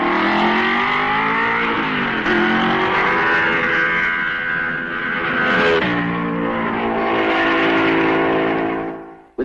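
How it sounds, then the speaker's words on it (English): A 1955 Mercedes W196 Grand Prix car races at the Belgian Grand Prix, its engine roaring loud and steady with rising and falling pitch as it passes close by, fading at the end. "Fangio passes the wreck of Vera's car at the end of the 7th lap."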